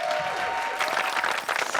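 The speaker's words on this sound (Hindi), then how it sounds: "तालियां।" Audience applause at a village talent hunt final on a comedy show, a loud, continuous crowd clapping that fills the whole moment with dense, scattered hand slaps.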